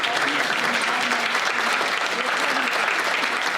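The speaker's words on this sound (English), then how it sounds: "Please give the Congresswoman a round of applause" Sustained applause from a women-in-business conference audience honoring a congresswoman, many hands clapping in a thick, uniform wash from start to finish, with a few voices faintly underneath.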